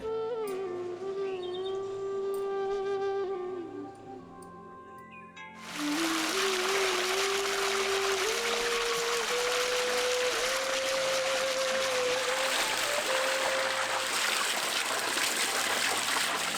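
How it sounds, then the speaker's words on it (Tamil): Water gushes steadily into a container of goat intestines being washed, its tone rising as it fills, after a few seconds of tonal hum before the pour begins. "நல்லா தண்ணி ஊற்றி கழுவ ஆரம்பிச்சிருவோம்"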